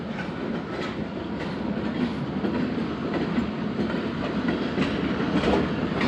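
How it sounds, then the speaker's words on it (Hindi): A locomotive and train rolling past on a Pakistani railway line, a steady close rumble with rhythmic wheel clicks over rail joints, continuous throughout and unaccompanied by talk. "लोकोमोटिव निकल गया।"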